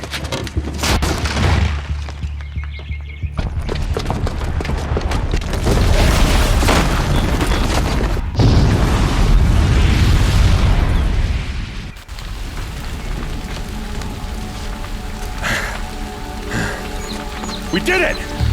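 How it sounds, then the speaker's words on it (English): A bomb booby trap blows up in Horizon Zero Dawn, a loud sustained booming roar with rumbling debris that fades after about twelve seconds and leaves crackling falling rubble and a lingering drone. "the booby trap on the bomb downstairs is gonna get set off"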